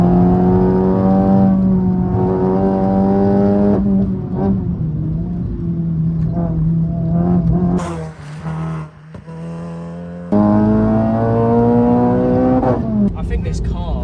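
A supercharged Renault Clio RS hatchback driven hard on a mountain road, its engine droning loudly as it climbs through the revs, dropping briefly at an upshift from third to fourth, then pulling again, with voices talking over it.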